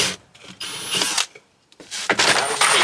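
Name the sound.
power drill drilling hole in van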